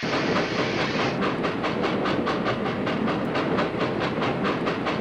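Toy train clickety-clack from the Abby Train colors and farm animals kids app game on iPad, a steady rhythmic clatter of wheel clicks rolling on continuously, loud and close with no talk.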